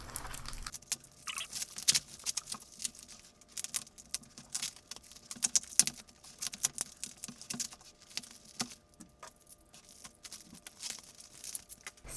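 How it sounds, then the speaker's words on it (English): A houseplant from a Home Depot online order is unwrapped from its packaging, giving continuous close crinkling and rustling with irregular sharp crackles and rips, no talking over it. "Let me unwrap her here."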